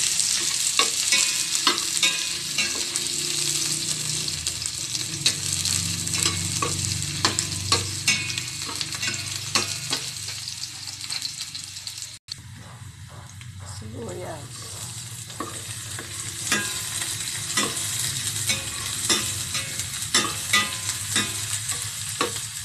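Garlic fries in oil for adobong hangit, a steady, loud sizzle that runs without a break while a utensil stirs and scrapes the pan now and then.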